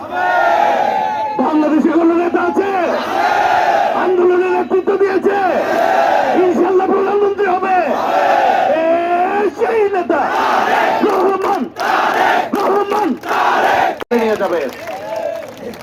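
A large crowd at a political rally chants a slogan in unison, loud rhythmic shouted phrases repeating steadily without pause for the full stretch.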